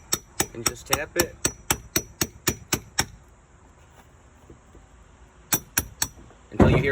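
A hammer taps a wooden peg out of an end-grain axe-throwing target: about a dozen sharp, evenly spaced knocks, then a pause and three more taps, ending in a louder clatter.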